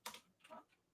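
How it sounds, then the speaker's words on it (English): Computer keyboard typing sounds as a few quick, soft, close keystrokes in a brief burst, with no voice over them. "I mean, I'm already typing it in."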